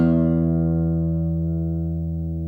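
A single guitar string plucked with the edge of the thumb, one clear note ringing with steady harmonics and slowly fading, close and alone.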